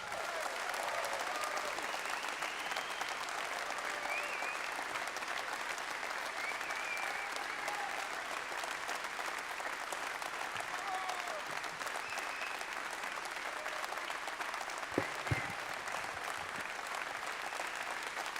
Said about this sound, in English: Please welcome with a thundering, earth-shattering applause, Mr. Steve Bannon